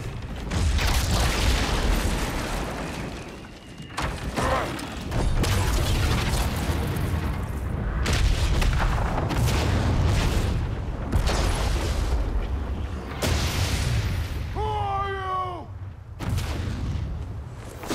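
Heavy booms from a bomb blast in the video game God of War Ragnarok roll through a long stretch of loud, rumbling in-game noise, with mechanical clanking and creaks between repeated impacts.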